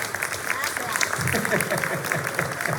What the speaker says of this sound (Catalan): un fort aplaudiment per la Issa.